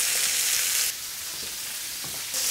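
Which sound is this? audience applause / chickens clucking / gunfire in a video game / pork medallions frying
pork medallions frying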